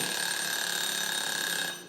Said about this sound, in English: timer's gone off